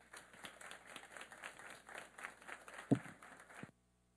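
Welcoming applause from an audience at a philosophy café event as a guest speaker takes the stage; a faint, steady patter of many hands lasts a few seconds, then cuts off abruptly into silence.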